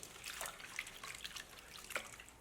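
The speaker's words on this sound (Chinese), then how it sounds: "再放入水中给它淘洗干净， 一片一片的汤洗，这样呢清洗的更彻底。" Spinach leaves are rinsed by hand in a basin of water, making quiet sloshing, dripping and splashing sounds in short uneven bursts at low volume.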